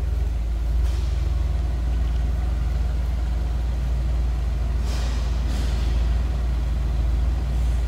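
A 1963 Ford Galaxie 500 convertible's 289 V8 engine idles steadily nearby, a deep continuous rumble with a smooth, even tone and no talking.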